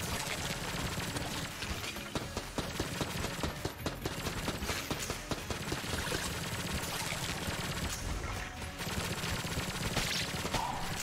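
Dense, continuous gunfire from the Enter the Gungeon video game: rapid overlapping shots and impacts stay loud and busy for the whole stretch, with no pauses.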